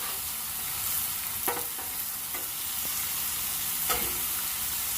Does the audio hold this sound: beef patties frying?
yes